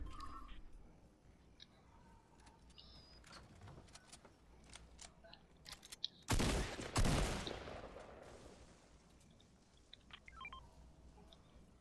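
In Fortnite, a sharp burst of gunfire erupts in the middle, loud and close, after stretches of quiet game clicks and blips.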